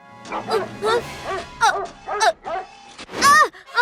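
A cartoon robot dog barks in a run of yappy, voiced woofs, loud and close, ending in one stronger, drawn-out bark.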